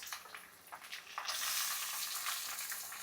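Green chillies and onions drop into a pan of crisp-fried potatoes for poha. A moderate frying crackle with light stirring suddenly bursts into a loud, dense sizzle that holds steady.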